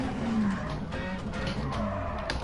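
Brief tire squeal from a rally car on a gravel or tarmac stage in the video game WRC10, Rally Estonia, heard over a steady engine drone and road noise.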